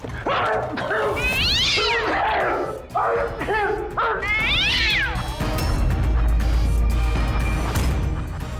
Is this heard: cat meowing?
yes